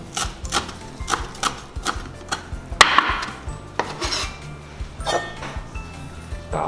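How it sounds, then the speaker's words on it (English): Knife chopping vegetables such as onion, parsley and garlic on a board, a series of sharp irregular taps with brief clinks and one louder knock, close and fairly loud with no talking. "I'm going to cut all these vegetables."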